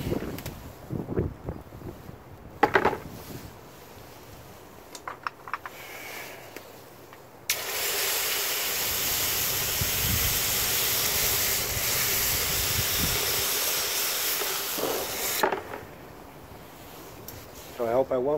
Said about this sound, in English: at least we can quench them now and look at the results